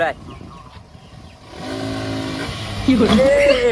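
Motorcycle engine rising into a hard rev on a wet road, carrying two riders for a wheelie, building from a low rumble to a loud climbing whine near the end, with people talking over it.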